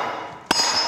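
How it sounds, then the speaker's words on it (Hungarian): One sharp metallic clink of a hammer strike lands midway over a steady background hum, close and brief. "Itt van ez a kalapács, elkezdem én ezt püfölni."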